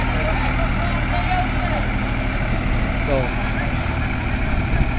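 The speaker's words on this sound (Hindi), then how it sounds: "दोस्तों ट्रैक्टर हो चुके हैं स्टार्ट" A Mahindra 575 and a Sonalika tractor idle side by side, fitted for rotavator work. Their engines give a steady, loud, low rumble throughout, and someone speaks over the noise.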